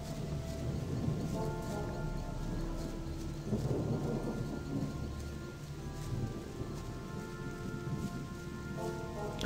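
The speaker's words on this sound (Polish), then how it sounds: "O nie, znowu pada deszcz." Steady rain with rumbling thunder in the video game Gothic, a dense continuous downpour with low rolling thunder swelling midway, loud and constant throughout with no voices.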